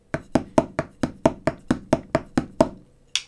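Drum triplet hand exercise with every left-hand note accented. Around a dozen sharp, evenly spaced strokes are played at near-equal loudness close to the listener, followed by a short gap and one last hit.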